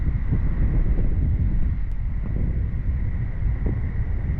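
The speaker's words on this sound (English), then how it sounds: "Today, the wind is blowing with the force of a hurricane." Hurricane-force wind on a long-distance electric bike trip buffets the microphone with a constant, heavy low roar and rushing noise, loud and unbroken throughout.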